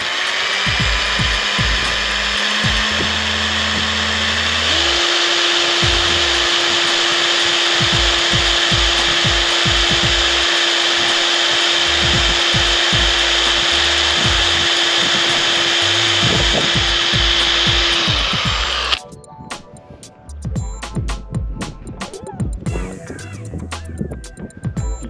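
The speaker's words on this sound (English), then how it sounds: "Okay, let's drill a hole through it." A power drill whines at a steady pitch for nearly twenty seconds as it bores through material, then stops, leaving clicks and handling noises.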